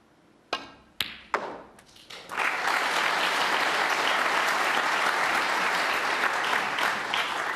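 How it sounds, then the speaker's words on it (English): At a World Snooker Championship final, a few sharp ball clicks ring out and then a crowd breaks into loud, sustained applause that fills the arena to the end. "much applause for that shot"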